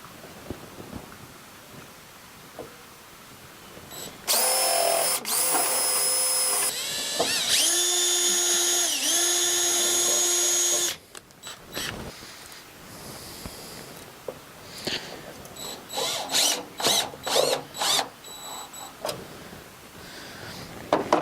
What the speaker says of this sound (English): Switch back to our drill bit.